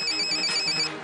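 A phone ringtone chimes in short repeated bursts, a bright electronic melody that cuts off abruptly, with no talk over it.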